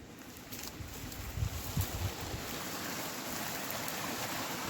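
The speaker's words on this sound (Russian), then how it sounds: "Водопадики у нас тут есть." Small waterfalls in the countryside make a steady, broad rushing of falling water, moderately close and continuous, with no voices over it.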